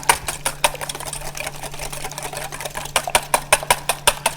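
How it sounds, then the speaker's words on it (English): Three farm fresh eggs whisked briskly in a bowl for an omelette, a fast run of light clicking taps, steady at first and growing louder and more rhythmic toward the end, with no talking. "So we'll start with 3 eggs. Give them a nice beat."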